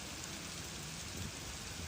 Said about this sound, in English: brief monsoon-like rain